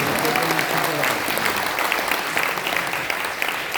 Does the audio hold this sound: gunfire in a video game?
no